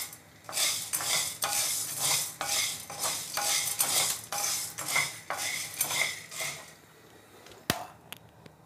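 White, green and black peas dry-roasting in a pan for thalipeeth flour, stirred briskly with a metal spoon, giving repeated rhythmic scraping and rattling strokes over a light sizzle, then a sharp clink near the end.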